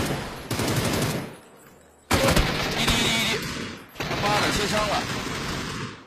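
Rapid automatic gunfire in a shooting video game, loud sustained bursts with brief pauses between volleys, layered with background game sounds.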